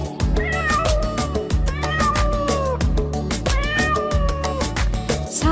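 Over a steady, loud musical backing, a singing voice imitates a cat's meowing with repeated, rising and falling mews that recur in regular phrases throughout.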